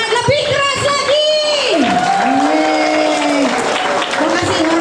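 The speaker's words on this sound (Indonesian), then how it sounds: "Tepuk tangan dengan lebih keras lagi." An audience at a church gathering claps and cheers, with a steady wash of applause and whoops under a loud voice speaking over it through a microphone.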